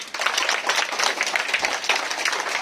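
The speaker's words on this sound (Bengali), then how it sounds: "একবার জোরে আমাদের শ্রদ্ধা জানাবো হাততালি" Applause for guests at a school cleanliness program: a crowd of students and staff clapping steadily and fairly loudly, a dense, continuous patter with no voices over it.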